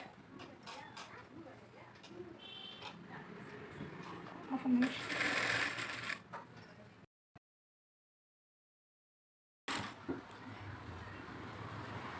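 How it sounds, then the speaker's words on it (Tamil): A sewing machine stitches a lining blouse in quiet bursts, with a louder run in the middle, a stretch of complete silence, then stitching resumes. "படிமான தையல் போட்டுட்டு வரோம்."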